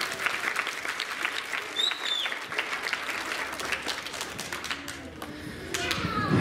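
A county fair audience gives a steady round of applause after volunteers return to their seats, the clapping continuous and moderately loud throughout, with faint children's voices mixed in.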